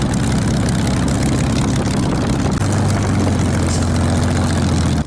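A Spitfire's propeller engine runs loud and steady while taxiing on a narrow parallel taxiway at Gatineau, a deep continuous drone with a slight shift in pitch partway through.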